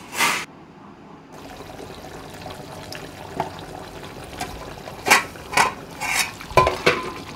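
Tamarind fish curry on the stove gives off a low bubbling simmer. Several distinct clinks, stirring knocks and splashy bursts stand out above it near the end, and no voices are heard.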